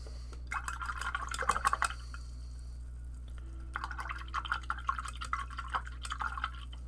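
A paint brush is swished in a water cup, producing faint clusters of trickling, dripping splashes in two bursts over a quiet background hum.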